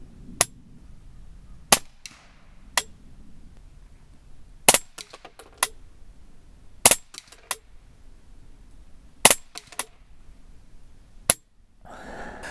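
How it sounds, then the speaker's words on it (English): Rifle shots fired at a paper label target while testing an Arken EPL-4 4-16x44 hunting scope: about nine sharp, loud single cracks spaced irregularly a second or more apart, with quiet outdoor ambience between them. "Let me send a few shots into this label"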